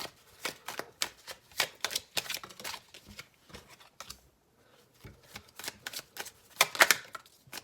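Tarot cards being drawn and shuffled, giving a run of quick crisp riffling flicks and slaps in bursts, close and fairly clear, with a short pause midway before a denser flurry at the end.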